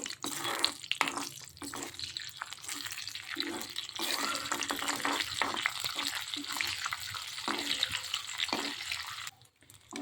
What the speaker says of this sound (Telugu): ఆవాలు, జీలకర్ర కాస్త ఫ్రై అవ్వాలి.